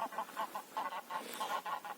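Geese bathing on a pond honk repeatedly in quick, nasal bursts, a steady chorus of several birds at moderate distance in winter in Stepanivka, Khmelnytskyi Oblast, Ukraine.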